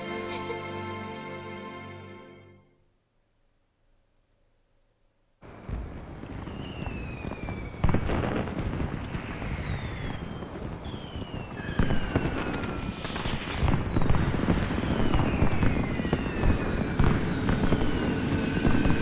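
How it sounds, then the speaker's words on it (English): Fireworks burst and crackle in the Final Fantasy XIII video game after a brief musical passage and a pause, dense popping and whistling streaks layered over a loud continuous roar. "Gotta love these fireworks."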